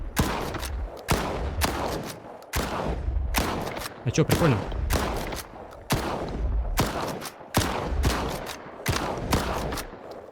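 Shotgun blasts from the RAM-2 in the video game STALKER 2, fired as a series of loud, booming shots about a second apart. Someone talks casually over the gunfire.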